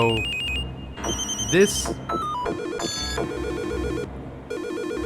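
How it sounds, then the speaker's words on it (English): Default phone ringtone in the video game Silent Hill: Shattered Memories, a repeating electronic melody of bright beeping tones over a rhythmic beat, with a voice speaking briefly over it. "is the default phone noise"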